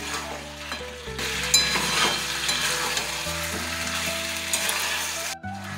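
Chicken kosha being stir-fried in a pan: a steady, close sizzle runs throughout, with scraping stirs and spoon knocks breaking through at intervals, no talking.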